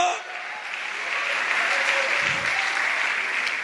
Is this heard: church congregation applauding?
yes